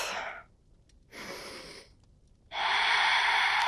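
Slow deep breathing during a yoga flow: an exhale, a pause, an inhale, another pause, then a longer strong breath, close and clear with no talk.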